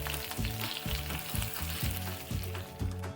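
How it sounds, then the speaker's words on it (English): Mustard seeds pop and sputter in hot oil while tempering a seasoning for black rice dosa batter, a close, dense crackling sizzle with no voices. "When the mustard seed starts sputtering, add 3 to 4 chopped green chilies and switch off the stove."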